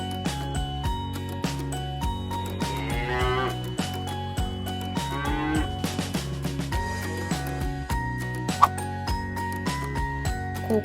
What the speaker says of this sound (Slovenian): Krava,